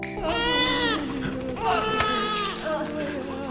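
A newborn baby cries in a war-film battle scene inside a war-torn apartment block, with long wailing cries rising and falling over a steady low rumble and some background voices.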